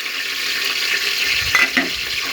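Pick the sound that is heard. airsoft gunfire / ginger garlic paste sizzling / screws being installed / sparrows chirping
ginger garlic paste sizzling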